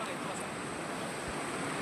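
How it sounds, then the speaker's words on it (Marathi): A waterfall roars as a continuous broadband rush, steady and unbroken, heard from a short distance without clear voices. "हा बघा हा धबधबा आहे"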